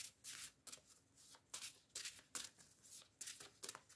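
A deck of Templar tarot cards is shuffled by hand close up, with about eight crisp riffling bursts in a quick, uneven rhythm and short quiet gaps between them.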